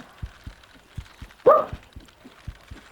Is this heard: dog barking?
yes